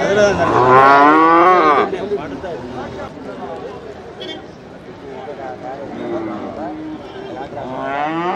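Cattle at the Manapparai cattle market give loud, drawn-out moos up close, with more lowing and crowd chatter continuing beneath as people talk nearby.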